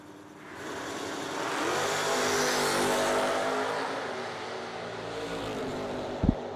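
Drag racing cars, one of them a Camaro, launch side by side at a racing event. Engines swell into a loud, sustained roar that peaks and then slowly fades into the distance.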